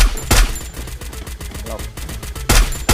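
Rapid bursts of automatic gunfire ring out in a shooting video game tournament match, loud and close at the start and again near the end.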